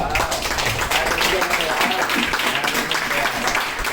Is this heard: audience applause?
yes